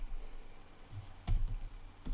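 Computer keyboard typing while entering code, a few soft clustered keystrokes at close range with short pauses between bursts, no voices.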